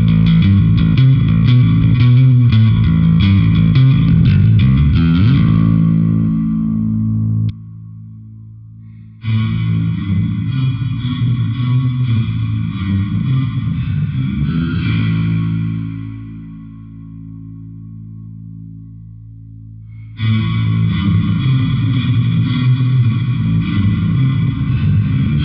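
Bass guitar runs through a Crazy Tube Circuits Splash Mk3 reverb pedal, loud sustained notes swelling with washy reverb, cutting to near silence twice before the chords return.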